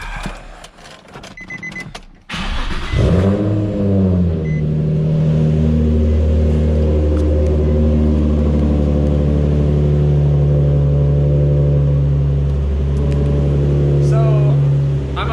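A Nissan 350Z fitted with a new exhaust: a few clicks, then the engine cranks and fires, flaring briefly before settling into a loud, steady, raspy idle close to the microphone.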